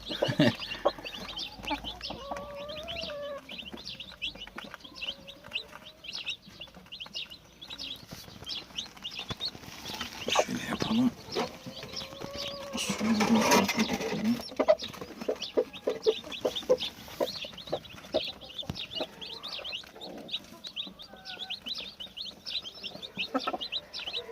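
Chickens cluck steadily up close while a hen named Sarı Kız and a chick are being fed in a farmyard, with scattered chirps and brief rustling under a continuous, moderately loud flock chatter.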